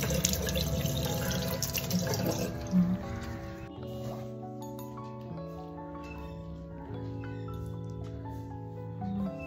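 Running tap water splashes steadily into a sink during face washing at home, loud and continuous at first, then fading out as a soft electronic tone and faint background sounds take over.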